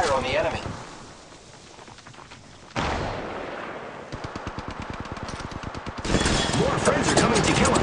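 Gunfire in Apex Legends Mobile, a battle royale shooter, comes in loud bursts of rapid automatic shots split by short pauses, with a heavier volley at the end and a voice talking over the fighting.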